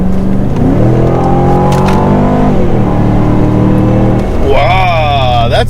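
Volvo S80 with its V8 engine launching hard, a loud, close engine note climbing steadily through the gears with a brief shift dip and rising whine, heard from inside the car.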